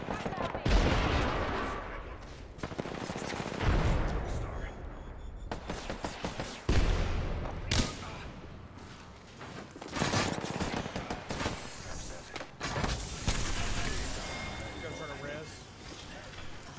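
Gunfire in the Apex Legends video game on the New Olympus map, with rapid bursts and scattered single shots crackling loudly through a chaotic firefight, punctuated by sharp impacts, as voices call out over the action.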